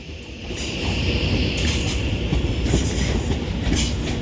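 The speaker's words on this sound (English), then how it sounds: "departing over here is 35112, which will be our final train of today, heading off to Birmingham New Street" Train 35112 pulls out of Wolverhampton station on the West Coast Main Line, bound for Birmingham New Street, with a steady loud rumble and rhythmic clickety-clack of wheels on rails, close by and sustained throughout, no talking.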